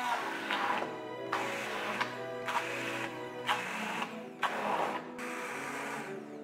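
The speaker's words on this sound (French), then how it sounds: "on mixe directement le légume" A kitchen blender purées cooked vegetables with no added water, running loud in a steady whir broken by a series of short pulses and pauses; no speech is heard.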